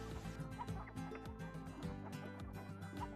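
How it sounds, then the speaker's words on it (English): Several chickens cluck in irregular bursts from fairly close by over a steady low background hum, with no voices. "the chickens will be needing a place"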